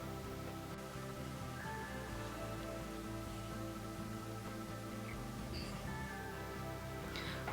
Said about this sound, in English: Oh, it's raining so badly out there.